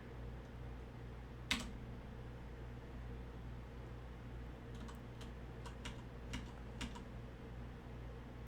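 Faint, scattered keystrokes on a computer keyboard in a quiet room: one sharper click early on, then a short burst of light taps later, with no talking.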